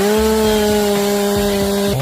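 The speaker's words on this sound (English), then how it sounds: "Each time the saw blade cuts through the wood, it makes a sharp hissing sound," A chainsaw cuts through wood, holding a loud, steady, high-pitched whine for the full two seconds, with rhythmic grinding pulses as the chain bites and the pitch shifting slightly at the very end.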